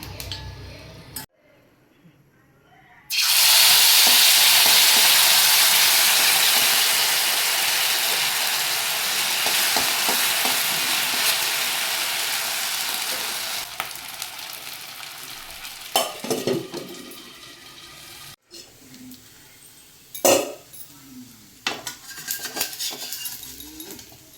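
Oil heats and adai batter fries on a hot tawa, starting with a few faint clicks before a loud, steady sizzle bursts in, then slowly settles into softer crackling with scattered pops near the end.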